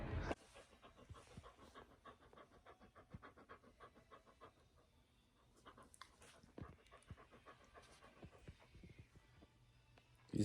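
A pet dog pants steadily up close in a quiet home, with quick rhythmic breaths running throughout and a faint car engine briefly in the background.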